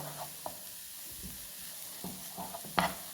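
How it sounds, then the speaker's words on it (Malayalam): Egg frying and being scrambled with drumstick flowers in a pan, a low steady sizzle broken by scattered scraping stirs and one sharper clatter near the end, close and quiet. "മുട്ടയും കൂടി ഇട്ടിട്ട് ഇതിലൊന്ന് ചിക്കി പരത്താട്ടോ നമുക്ക്."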